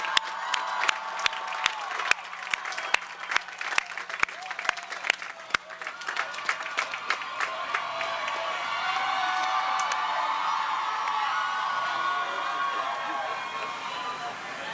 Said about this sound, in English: Let's give our faculty a hearty round of applause.